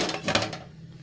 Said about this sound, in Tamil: நான் இப்போ இதை லிட் போட்டு க்ளோஸ் பண்ண